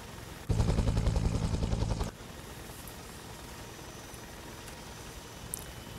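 A video game helicopter's rotor thumps loudly for about a second and a half, a dense rhythmic chop that cuts off abruptly, leaving a quiet background hum with faint clicks.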